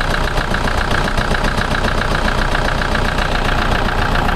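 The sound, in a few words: SUV engine idling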